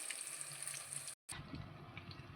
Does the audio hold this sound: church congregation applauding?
no